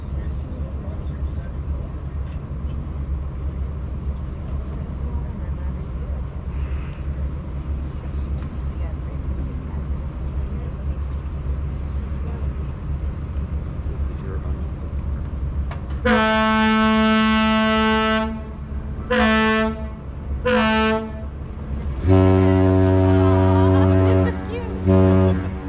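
Great Lakes freighter Ojibwe at a pier near the Soo Locks, a steady low engine and thruster rumble running throughout, then a loud, harmonic ship's horn sounds in several blasts, the last one long and sustained.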